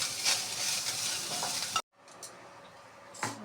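Red chilies, curry leaves, coconut, white sesame and cumin sizzle and crackle in a hot pan while being stirred, then the frying abruptly cuts out to a quieter background with a few faint clinks.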